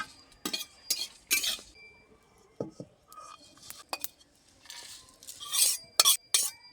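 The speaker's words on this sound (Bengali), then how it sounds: "এই মশলাটা আমি ভালোভাবে ভেজে নেব" Black pepper and cumin dry-roasting in an empty pan, heard as scattered dry clinks and scrapes of a utensil against metal, with bursts of rattling and no speech.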